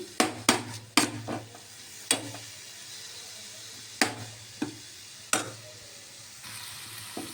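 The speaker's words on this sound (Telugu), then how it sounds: "ఇది జామకాయ తురుముని వేయించుకుంటున్నామండి నేతిలోని." Grated guava frying in ghee for guava halwa, a soft steady sizzle in the background broken by several sharp scraping and clanking stirs of a spoon against the pan, with no voices.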